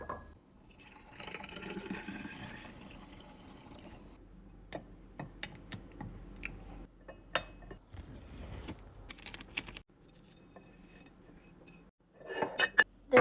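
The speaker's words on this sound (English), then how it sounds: "Next bottle is apple cider vinegar. I'm gonna try a larger funnel this time." Apple cider vinegar pours through a larger funnel into a kitchen bottle, a steady liquid trickle with clinks and small clatters of glass and plastic, close and fairly quiet.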